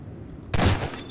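A single loud gunshot goes off in a Garry's Mod Prop Hunt match, a short burst with a little echo against a quiet background.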